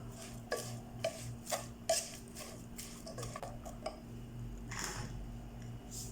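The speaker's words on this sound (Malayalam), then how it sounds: "എല്ലാം കൂടെ നല്ല രീതിയിൽ മിക്സ് ചെയ്യുക" Ingredients for chicken roast with finely chopped onions being stirred in a pan, a spoon scraping and clinking against the metal in a steady rhythm of sharp taps, close and fairly quiet.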